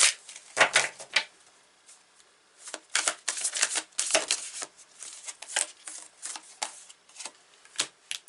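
Tarot cards are shuffled by hand in quick crisp bursts of riffling and sliding, separated by brief pauses, close and clear with no speech.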